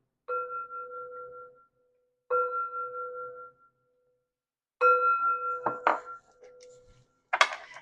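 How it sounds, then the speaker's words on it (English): Three separate ringing strikes of chimes, each sustaining and fading, the last ones busier with extra clinks and a rustle at the end. "3 chimes to bring in positive energy"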